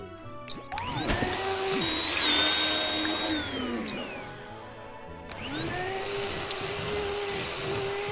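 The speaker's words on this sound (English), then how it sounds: "vacuum that thing up" Vacuum cleaner in The Sims 4, a steady whirring drone that rises and dips in pitch, pausing briefly before starting up again, loud and close with no talk.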